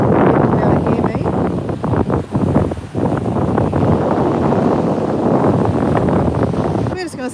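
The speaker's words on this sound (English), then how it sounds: "It's a bit windy today, I don't know if you'll be able to hear me." Strong gusty wind at the beach buffets the microphone in a constant low roar, with brief lulls and a faint rustle near the end.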